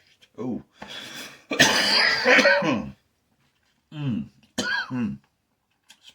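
Someone clears their throat and coughs harshly several times up close, with short breathy bursts separated by pauses of silence.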